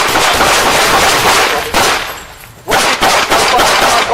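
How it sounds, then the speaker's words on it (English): Police open fire on a suspect during an armed confrontation, a loud, dense volley of rapid gunshots that briefly eases off before another sharp burst. "Shots fired."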